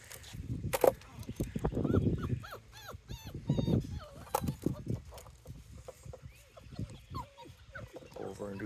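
Puppies whimper, yip and squeal in high, wavering cries, close by and overlapping in short bursts, with a person talking softly among them.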